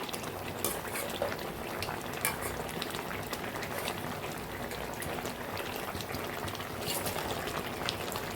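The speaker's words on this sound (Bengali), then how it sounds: "মাছগুলো ফাইনালি দিয়ে দিলাম দিয়ে ভালো করে একটু ফুটিয়ে নেব" A pot of light Bengali curry of small fish and ridge gourd simmers at a boil, a steady, close, busy bubbling and gurgling that runs unbroken for over eight seconds, with no speech.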